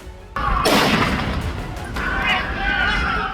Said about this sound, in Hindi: दोनों आतंकियों ने सिडनी के बॉन्डी बीच पर कुछ इस तरह से गोलियां चलाई।